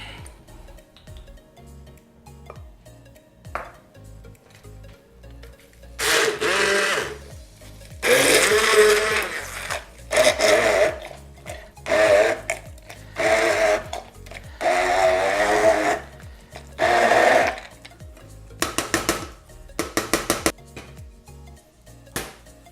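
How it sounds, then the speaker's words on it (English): A kitchen blender whirring through garlic, onion, salt and olive oil in several separate pulses, each a loud grinding burst lasting a second or two, with short quiet gaps between them. "So now we blend it"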